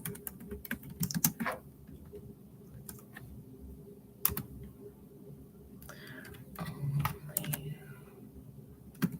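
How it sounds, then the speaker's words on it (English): Computer keyboard keys clatter in irregular bursts of quick taps with short pauses between, close and distinct against a quiet room background. "I just am typing something."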